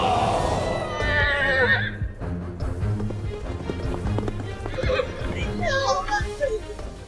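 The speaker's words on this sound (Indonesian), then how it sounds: "Beberapa saat kemudian, Min tiba dengan menunggang kuda putih, percis seperti yang dilakukan Osa" A white horse arrives with a rider, neighing and whinnying loudly up front while clip-clopping hoofbeats run steadily underneath, joined later by more whinnies over a busy, music-like background.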